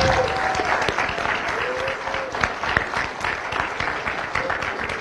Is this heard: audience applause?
yes